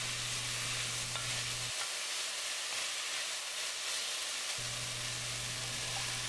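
Onion, peppers and garlic frying in a pot for a Turkish one-pot chicken pasta, giving a steady close sizzle and hiss that runs throughout. A low hum drops out for a few seconds in the middle and then comes back.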